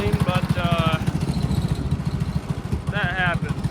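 A Simplicity riding mower's engine idles with a rapid, even, putting chug, close and steady throughout, while someone talks over it in short bursts.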